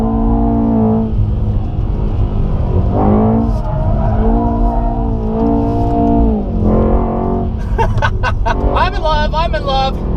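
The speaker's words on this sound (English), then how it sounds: "Second gear, this thing drifts like a monster." A Mercedes E63S drifts on a track in second gear, its engine roaring with rising and falling revs and tires squealing near the end, while a person talks loudly over it throughout.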